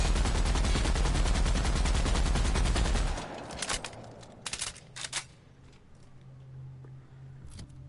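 Rapid automatic gunfire from a weapon in The Outer Worlds, a dense burst of fast repeated shots for about three seconds, followed by a few scattered sharp shots and clicks over quieter background.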